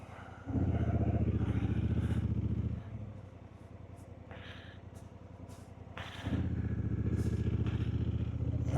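A motorcycle engine is throttled up close, holding a loud, steady revving roar, dropping to a lower idle for a few seconds, then surging back up to a strong sustained rev.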